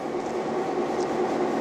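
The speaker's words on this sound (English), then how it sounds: "the Indian Pacific is scorching across the desert once more" The Indian Pacific passenger train runs across the desert, a steady low rumbling roar with no break, heard from close by.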